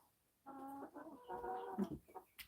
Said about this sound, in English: I just gave the chickens some jelly lolly and it's stuck on his beak